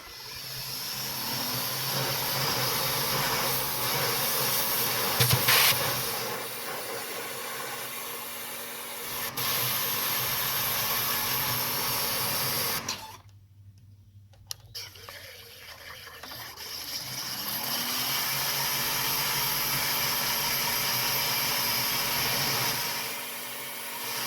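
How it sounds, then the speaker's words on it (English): A pressure washer spraying engine parts during a 2006 Dodge Charger 5.7 Hemi cam job, a loud continuous hiss of water that drops out briefly midway and then resumes, with no speech. "So I'm going to continue working with the pressure washer here."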